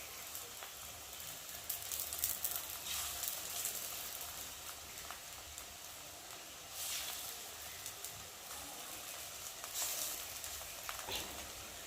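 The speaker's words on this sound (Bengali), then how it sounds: "আমি একে একে ছাড়বো পেঁয়াজি" Onion fritters (peyaji) dropped one by one into shallow oil, a faint, steady hiss of frying with gentle swells, quiet and without speech.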